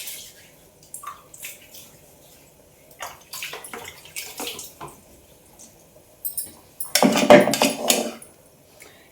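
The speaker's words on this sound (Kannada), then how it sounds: "ಬಾಂಡೆ ತಿಕ್ಕಬೇಕು." Vessels are scrubbed and rinsed with water at a farm home: soft intermittent scraping and clinks, then a louder stretch of splashing, pouring water near the end.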